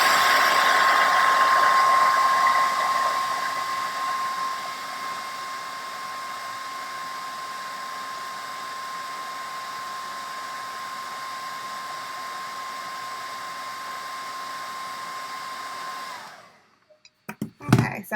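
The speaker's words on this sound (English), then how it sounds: "I tried to dry this with the blow dryer a little bit." A handheld blow dryer blasts warm air over a piece of painted clay, a steady close whooshing roar that runs unbroken for about sixteen seconds before cutting off, followed by a few faint handling clicks.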